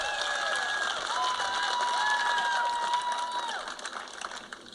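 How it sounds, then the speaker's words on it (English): An audience applauds the sheriff at a political rally, a steady wash of clapping and some cheering from a crowd, fairly distant and sustained throughout. "Give him a round of applause."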